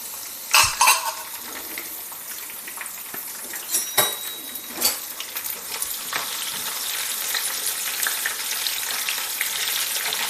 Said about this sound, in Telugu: ఇప్పుడే వేసేసాం అనుకోండి, ఆవాలు వేగే లోపల ఇది కూడా వేగిపోతుంది